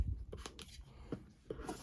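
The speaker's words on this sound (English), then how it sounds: "we're going to go ahead and cut this tuxedo seal here" Blade cutting through the tuxedo seal on a graded sports card package, giving a few quiet, close snips and scrapes against a hushed room.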